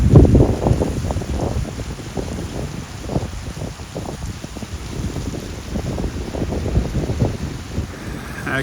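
Bass Strait surf pounds a rocky coastline on the Great Ocean Walk, with repeated heavy wave crashes and churning water under gusting wind buffeting the microphone, loud and close.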